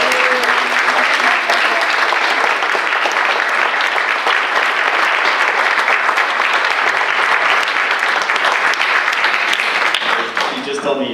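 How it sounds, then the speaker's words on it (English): A church congregation at a United Methodist service gives a steady, full round of applause honoring lay speaker Marguerite Torres. The close, dense clapping lasts the whole stretch without a break. "So can we give a round of applause?"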